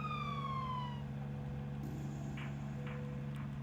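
Ambulance siren in the PS2 zombie game Zombie Virus, a single falling wail that cuts off early, leaving a low steady vehicle engine hum with a few faint clicks, no talking.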